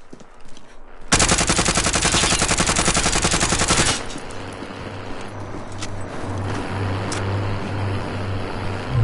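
Rapid automatic fire from a Krieg rifle in the Warzone video game: one loud, sustained burst of closely spaced shots lasting about three seconds, then a lower mechanical drone with scattered game sounds.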